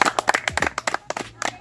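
A few people clap their hands at a small meeting, giving about a dozen sharp, uneven claps close by. The claps come in quick bursts with short gaps between them, and voices can be heard among them.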